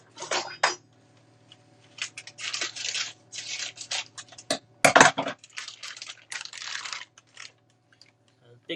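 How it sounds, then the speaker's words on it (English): Kitchen scissors snip through chorizo in a rapid series of close, crisp cuts and clicks, with brief pauses between bursts. "Get my scissors."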